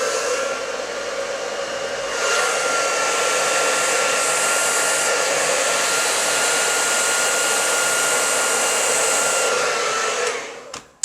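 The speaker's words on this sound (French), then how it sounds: "tirer sa mèche comme ça avec le sèche-cheveux" A hair dryer blow-dries a stretched strand of hair during a brushing, a steady loud whooshing roar running for about ten seconds before switching off abruptly at the end, with no talking.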